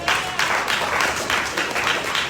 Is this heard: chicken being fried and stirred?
no